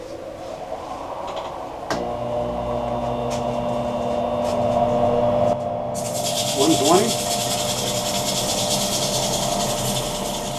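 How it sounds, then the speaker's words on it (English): Steady abrasive rasp of sandpaper against a spinning 16-inch wooden chip and dip platter over a humming lathe motor, with a sharp knock early on and a brighter, hissier grind later. "It's time for sanding."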